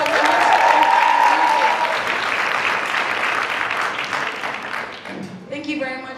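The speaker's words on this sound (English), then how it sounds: "you can give him a round of applause." Audience at a summit creative session breaking into a round of applause that fades over several seconds, followed by a voice speaking at the end.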